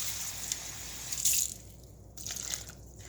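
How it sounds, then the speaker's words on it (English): A cup of water poured into blueberry pie filling in a pot, a soft splashing pour with brief gushes, close and fairly quiet with no talking. "And I'm adding in a cup of water."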